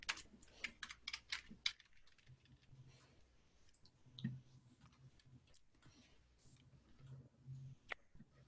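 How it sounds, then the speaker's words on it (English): Typing on a computer keyboard: scattered, quiet key clicks in irregular bursts, faint and close, with a busier flurry at the start and sparser taps afterward. "I'm not done typing."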